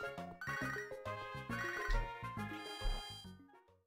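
A cell phone ringtone plays during a session of the Pokemon Soul Silver video game, a busy melodic tune running for several seconds before cutting off.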